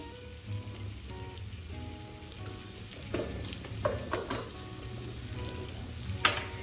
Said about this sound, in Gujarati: હવે આપણે આ બધી વસ્તુને એકદમ સરસ રીતે મિક્સ કરી લઈશું